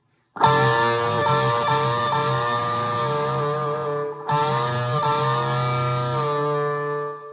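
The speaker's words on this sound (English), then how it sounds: "The third thing he uses is kind of like a unison bend" Heavily distorted electric guitar rings out in a sustained, wailing unison bend, struck again partway through with a fresh loud attack, alone and close.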